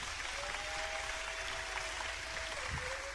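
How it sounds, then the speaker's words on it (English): A comedy show audience applauds, a steady wash of clapping that runs unbroken and fairly faint from start to finish, with a thin tone sustained above it. "How many of y'all in relationships? Round of applause."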